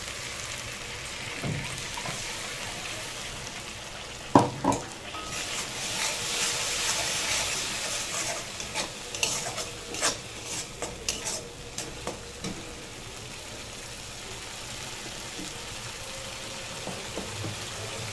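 A wet tomato and onion paste hits a hot pan and is stirred, giving a steady close sizzle broken by scraping strokes and a few sharper clanks, with no voices over it.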